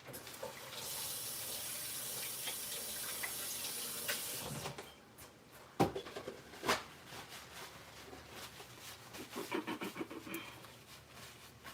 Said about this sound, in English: let me wash my hands really fast